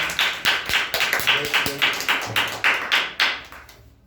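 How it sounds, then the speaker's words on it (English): Children's audience at a storytelling competition claps in a quick rhythmic unison beat, loud and close, repeated evenly for about four seconds before fading, with a faint voice underneath. "clap for Om"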